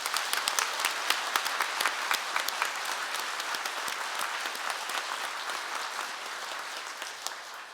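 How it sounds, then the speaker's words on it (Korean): Steady, dense applause from the congregation at a Mass honouring bishops, many hands clapping continuously for several seconds in a large reverberant church space. "우리 주교님들의 함께함에 큰 박수 부탁드립니다."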